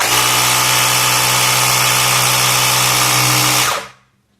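A Tusa tyre inflator runs with a loud, steady motorized drone and strong low hum for nearly four seconds, then cuts off abruptly into silence.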